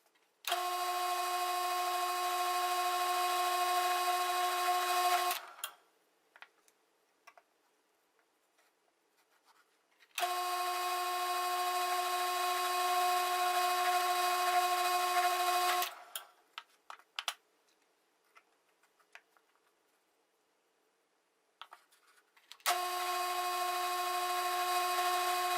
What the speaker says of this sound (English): let me go ahead and drill the holes for this